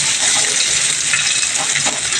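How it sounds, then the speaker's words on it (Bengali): Hog plums fry in a little oil with a close, steady sizzle and light stirring scrapes, short and without speech. "এই আমরাকে একটুখানি তেলের মধ্যে একটু লাল লাল করে নিয়ে নিচ্ছি"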